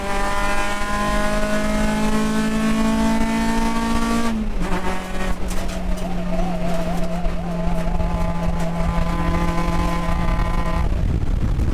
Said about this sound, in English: Drag race down the back half of the track.